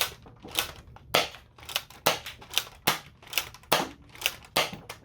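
Toy foam blaster, Radioactive Designs models such as the Desperado, 6-SH and Radson, firing about eight sharp snapping shots at a steady quick rhythm, close and loud with no talk.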